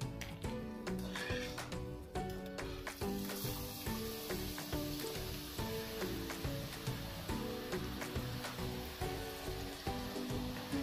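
Boondi batter drops fry in hot refined oil for a sweet boondi, making a continuous, dense, crackling sizzle close by that holds steady throughout.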